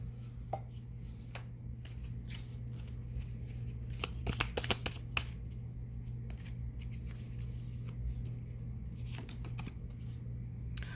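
A deck of angel cards is shuffled by hand close to the microphone, with a quick flurry of crisp riffling flicks in the middle and scattered softer card taps before and after, over a steady low hum.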